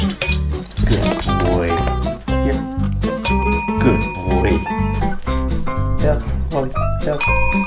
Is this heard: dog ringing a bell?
yes